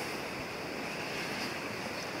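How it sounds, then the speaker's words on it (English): Water rushes in steadily, leaking into an old boat and filling it as a continuous broadband hiss and surge, close and even in level without talk. "I got water coming in all over the place here."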